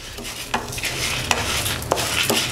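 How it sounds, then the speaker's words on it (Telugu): Dried red chillies fry in a pan for kandi pachadi, with a soft sizzle under repeated scraping and clinking stirs of a spoon against the metal, several sharp taps standing out. "ఎండుమిరపకాయలు కూడా చక్కగా వేగాయి"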